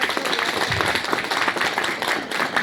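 An audience at a company's second anniversary celebration in Darjeeling gives a loud, dense round of applause, continuous clapping with crowd noise throughout.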